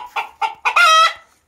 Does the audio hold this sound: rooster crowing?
yes